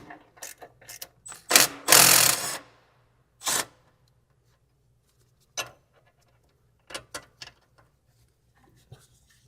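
Loosening the ride height sensor drop link on an Aston Martin DB9's rear suspension produces scattered mechanical clicks and ratcheting taps, with one louder, longer burst of scraping wrench noise near the start and sparse sharp ticks afterward.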